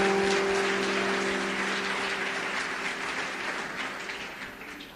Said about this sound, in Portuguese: Se você ouviu essa palavra, pode aplaudir o Senhor